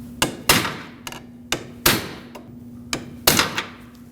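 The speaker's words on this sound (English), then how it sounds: "With that same pry bar and a hammer, I'm going to bend it out because that's what locks in the tie rod" Sharp metallic hammer strikes on a pry bar bend a peened washer on the inner tie rod of a 2006-2015 Lexus IS250, about ten close, uneven blows with a steady low hum underneath.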